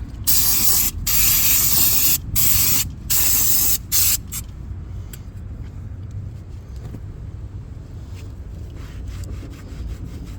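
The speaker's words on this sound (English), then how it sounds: "Let me clean the disc again." Brake cleaner sprays onto a car's brake disc during a brake upgrade on a Polo MK2F, several loud, close hissing bursts in the first few seconds followed by quieter rubbing and faint clicks.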